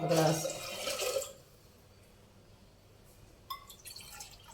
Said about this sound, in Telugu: కొంచెం వాటర్ కూడా వేసుకుందాం